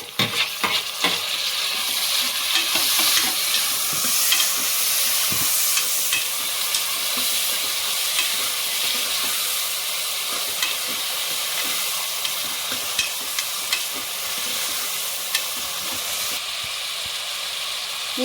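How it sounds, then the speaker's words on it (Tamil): Tomatoes sauté in a pan for chicken gravy, giving a steady, close sizzle and hiss with frequent scraping stirs throughout. "நீ தக்காளியை வதக்கணும்."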